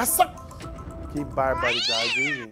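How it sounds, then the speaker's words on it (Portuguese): A cat meows loudly and close by in a long, drawn-out wail during a neighborhood dispute, right after a brief burst of excited human speech. "Gato!"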